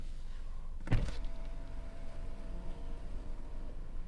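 Kia K8 one-touch power window, heard close inside the car: a click at the switch starts a steady electric motor whir that runs smoothly for about three seconds as the glass travels, with no talking.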